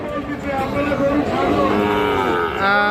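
A Sahiwal breed bull calf at a rural cattle market in Ghoraghat, Dinajpur, gives a long, loud, close moo that rises and falls amid market murmur.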